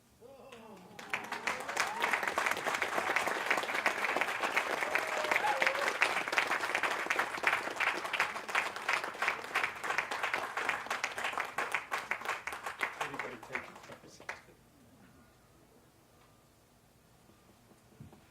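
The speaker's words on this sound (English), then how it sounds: "Let's give them another big round of applause." An audience at an annual observance event claps in a long, strong round of applause lasting over twelve seconds, with individual hand claps crisp and dense, before it fades to quiet room sound with a voice faintly present.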